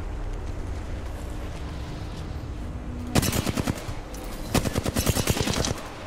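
Automatic gunfire rattles in rapid bursts during a ranked shooter match, two long sustained volleys with a short pause between, loud over a low game ambience.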